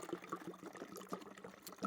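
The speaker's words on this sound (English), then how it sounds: "we're gonna pour it straight into the canister." Car wash soap is poured into a foam cannon canister for an electric pressure washer, a close, faint liquid glugging and trickling with small splashy bubbles throughout.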